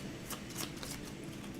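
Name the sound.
shuffling a deck of game cards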